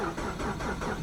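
A 2009 Ford Fusion engine cranks and catches on a zero-degree cold start, giving a steady, close mid-pitched rumble with slight rhythmic pulsing throughout.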